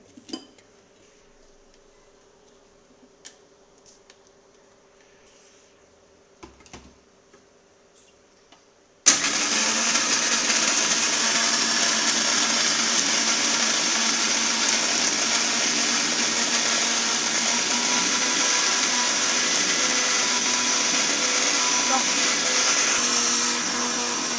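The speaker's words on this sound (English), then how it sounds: "and blend" A blender blending lassi of curd, ice cubes and sugar starts abruptly after a few quiet clicks and handling sounds, then whirs loudly and steadily for about fifteen seconds.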